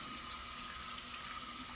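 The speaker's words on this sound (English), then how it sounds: "you're going to leave your water running" A sink tap runs steadily during handwashing, producing a continuous, even rush and splash of water with no talk over it.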